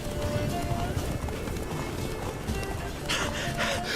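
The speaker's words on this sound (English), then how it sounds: "Run, Roach" Horse galloping in The Witcher 3 video game, steady hoofbeats running continuously under ambient game sound, with a brief burst of brighter noise near the end.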